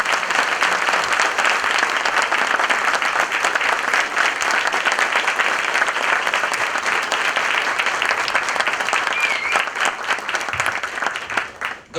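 A large audience bursts into dense, sustained applause, loud and continuous for several seconds before tapering off at the end.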